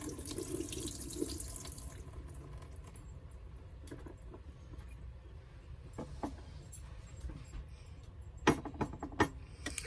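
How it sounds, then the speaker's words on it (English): Liquid from a can of asparagus draining into a sink, a rushing pour at first that fades to trickles, with scattered clinks and light knocks from the can and dish nearby. "I'm going to drain this one can off and the other one"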